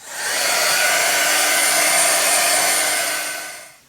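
A hair dryer blows steadily and loudly for about four seconds to dry a matte medium image transfer, its broad airy whoosh holding even before winding down at the end.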